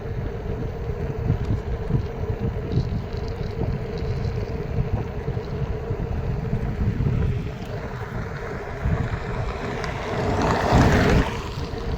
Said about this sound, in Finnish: Ihan laillinen mopo,